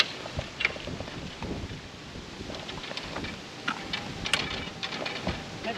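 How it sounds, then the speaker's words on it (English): Gusts of wind buffet the microphone outdoors, uneven rushing with occasional louder bumps and faint clicks, no voices. "It actually just got a bit windy and a bit cool."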